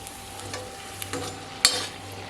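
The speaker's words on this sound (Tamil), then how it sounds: "வடை ஒரு பக்கம் வந்து கொதி அடங்கிடுச்சு இப்போ திருப்பி போட்டுடலாம்" Mango vada sizzles gently in hot oil as the fritters are stirred and turned, a quiet crackle with a few small utensil taps and one sharper clack near the end.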